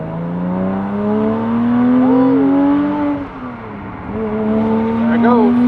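A 2006 Porsche Cayman S engine, rebuilt from 3.4 to 3.9 litres, revs up steadily in pitch, drops briefly as a gear shifts, then climbs again, loud and close.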